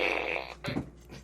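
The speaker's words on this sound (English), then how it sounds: "my fart gun" A toy fart gun lets out a short, close raspy blurt lasting about a quarter second, after a brief higher whirring tone from the toy.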